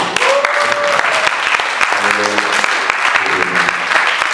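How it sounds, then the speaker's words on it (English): A church congregation applauds in praise of God, a steady wash of many hands clapping throughout, with voices rising over it and some sustained singing or calling tones partway through. "You don't want to give God a wonderful clap."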